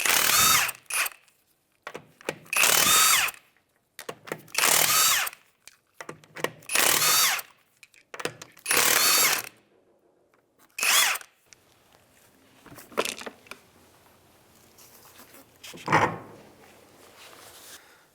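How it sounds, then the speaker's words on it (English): An impact gun spins off the 19 mm lug nuts on the rear wheel of a 2003-2011 Honda Element, with loud short bursts repeated in a rhythmic sequence, clanks between them and a few quieter bursts later, close up. "Go ahead and take off the lug nuts now."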